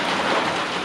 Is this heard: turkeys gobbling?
no